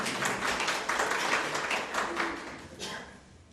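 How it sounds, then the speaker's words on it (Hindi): An audience claps for a teacher, with dense, steady applause from many hands that fades toward the end, and faint talk beneath it. "अच्छा लगा तो मेरी मैडम के लिए ताली बजाइएगा।"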